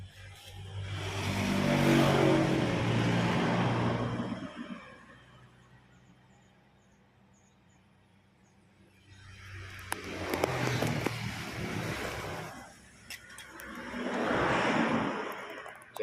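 A motorcycle engine with a worn connecting rod revs up and falls back in three swells, rising to a rough mechanical roar and dropping to a quiet idle between them, heard close with no talk.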